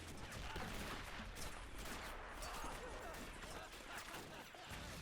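Massed bolt-action rifle fire from many soldiers in Men of War: Assault Squad 2, a WW1 mod battle defending the Baltics, forming a dense, loud, continuous crackle that blurs into something like machine-gun fire.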